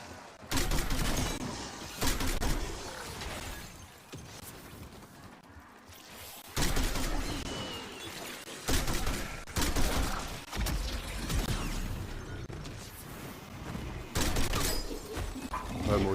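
Gunfire from a player's weapon in the video game Black Ops 6, with dense bursts of shots and loud crackling fire repeating across the stretch, close and full, broken by brief lulls.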